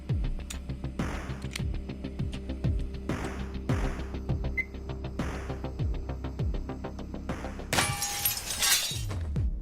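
Glass breaking in the gun game Receiver 2: a bright burst of shattering near the end follows a run of sharp ticking, clicking mechanical noises, with no talking.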